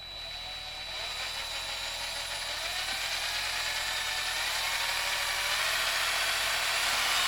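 A power drill spins a Chevrolet speedometer cable via a pencil eraser, producing a high, steady whirring whine that slowly rises in pitch and loudness over a faint mechanical hum.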